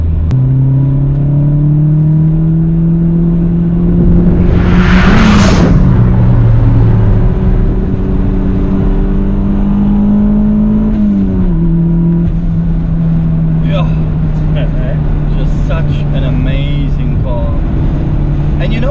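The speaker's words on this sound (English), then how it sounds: "I basically can floor this car and you'll barely get any wheel spin" A Toyota MR2 Turbo pulls away hard, its engine note climbing steadily and loud close by, with a brief whooshing burst partway through and a gear change before it settles into a sustained drone.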